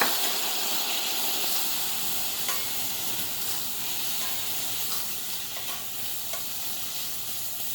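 Onions sautéing in a little water without oil in a pan give off a steady, close hiss and sizzle with faint stirring scrapes throughout, and no voices.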